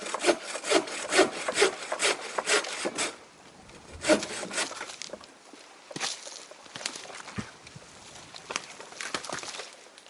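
A hand saw cuts through a fallen tree blocking a forest portage trail, a quick run of rhythmic rasping strokes followed by slower, sparser strokes with rustling and footsteps nearby.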